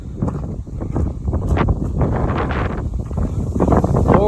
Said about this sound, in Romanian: Oh my god, ce bate vântul, auci.